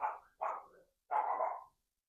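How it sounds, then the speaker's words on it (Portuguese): A dog barks three times nearby, two quick barks followed by a longer one, loud and clear against silence with no talking. "Cachorro."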